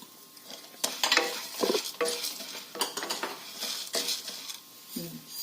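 Toor dal and sesame seeds dry-roasting in a pan, stirred with a utensil that scrapes and clatters against the metal in uneven bursts, with a faint sizzle underneath.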